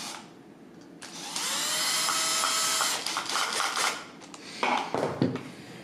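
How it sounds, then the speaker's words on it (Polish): A cordless screwdriver whirs in short bursts while tightening a screw inside a Saeco Xsmall coffee machine, a close, high motor whine lasting about two seconds followed by briefer stuttering pulses. "dokręcić wkrętarką"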